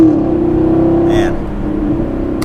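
A 2019 Chevrolet Camaro SS with a 10-speed automatic, its engine droning loud and close as it pulls hard, with a steady throbbing exhaust note and a brief higher whine midway.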